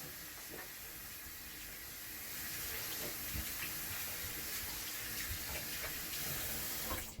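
Tap water running steadily into a sink while soapy hands are rinsed underneath, a close, continuous splashing hiss that swells slightly partway through, no talking.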